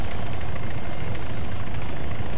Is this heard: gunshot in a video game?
no